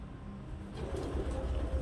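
A pigeon coos softly and repeatedly while its feathers are being dyed indoors, low throaty calls sitting under a steady background hum with no talk.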